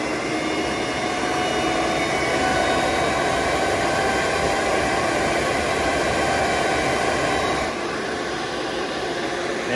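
A box exhaust fan runs wide open at speed level 9, a loud, steady broadband whoosh of rushing air that holds constant throughout and drops slightly in level near the end.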